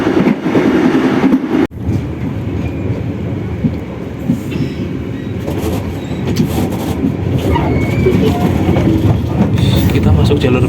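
A Bengawan passenger train runs along the rails at about 80 to 90 km/h, producing a loud, steady rumble and rattle of wheels on track throughout, with faint clacks and a brief dip near the start.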